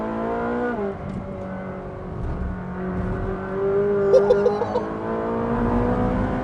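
A high-performance car, a 2014 car-of-the-year contender, accelerates hard with a loud, rising engine note that shifts gear and climbs again, close and dominant for several seconds.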